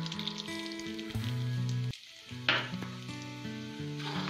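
Semolina goes into melted ghee in a kadai and sizzles with a bright, hissing burst and gentle scraping, set against soft background music.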